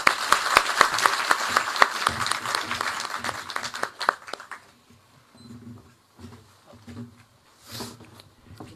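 An audience applauds Chief Minister Bhagwant Mann, with dense, loud clapping for about four seconds that then thins into scattered claps and murmured voices.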